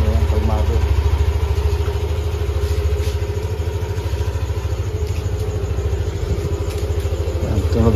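A stock Yamaha Aerox scooter with a factory exhaust, running on Zic oil, idles steadily close up, giving a low, even, throbbing hum that holds without revving for the whole stretch.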